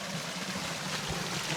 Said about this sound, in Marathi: शाकाल तर इथं टीवर पाणी चालू आहे